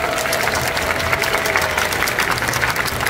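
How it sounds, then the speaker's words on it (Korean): A crowd claps for the performers at a cosplay stage event at a Seoul pop culture convention, a loud, dense and continuous ovation in a large hall with a low rumble underneath. "큰 박수 한번 부탁드리겠습니다"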